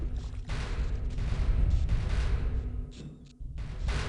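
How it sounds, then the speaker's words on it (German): Gunfire aimed at a creature in the video game Half-Life comes as dense, booming bursts of shots with deep low rumble, loud and continuous with brief breaks. "Seine 4 Schüsse, die er uns gegeben hat, brauchen wir für das Scheissviech."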